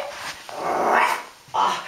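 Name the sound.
actor imitating a dog's woof in children's theatre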